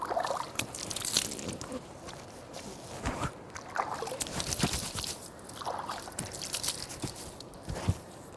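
Water splashes in short, uneven bursts as hands scoop it onto the face during Islamic ablution, quiet and close, with small drips and sloshes between the splashes.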